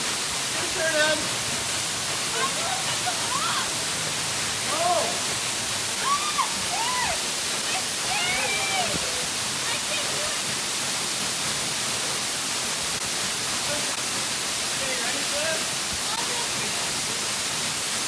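A massive waterfall of freezing cold water gives a loud, steady, full roar that never lets up. Faint higher chirps and calls flicker briefly above the roar.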